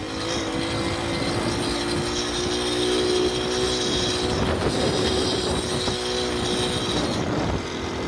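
Car engine accelerating hard in second gear, its tone rising and droning loudly and close for several seconds with a steady mechanical roar.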